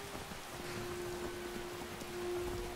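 Steady rain falling outdoors near the Whiterun stables in the video game Skyrim, a soft continuous hiss with a faint constant tone running beneath it, even and unbroken throughout.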